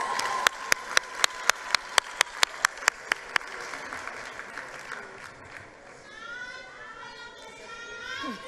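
An audience claps in rapid, sharp, evenly spaced bursts for about three seconds at a matric results announcement, then the clapping fades into a murmuring crowd, with chirpy young voices and a whistle-like squeal toward the end.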